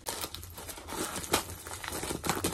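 Plastic packaging crinkles and rustles up close while a shoe package is opened, a continuous run of crackly, uneven handling sounds without any talking.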